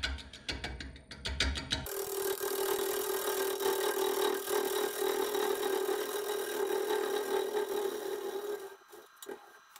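A wood lathe turns an unknown wood while a tool takes a cut, giving a steady mid-pitched hum with rasping scrape. A few clicks come first and the cutting sound fades near the end.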